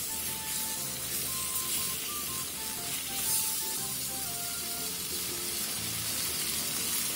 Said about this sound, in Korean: 양파를 넣고 양파가 양념과 어우러질 정도로만 역시 센 불에서 볶아주세요.